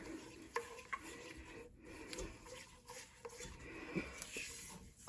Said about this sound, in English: Now, keep stirring.